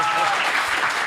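Studio audience applause during a French weekly news talk show, a steady, dense wash of clapping that fills the whole short moment at even loudness without letting up.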